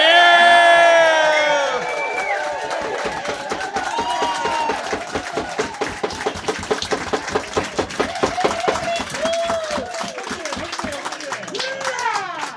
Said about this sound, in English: So let's make as much noise, whooping and hollering and applauding for Paul so we can hear it